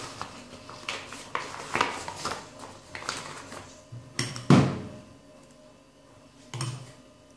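Cream is mixed in a bowl for a watermelon-shaped ice cream, with soft, irregular scraping and light utensil taps, fairly quiet and close.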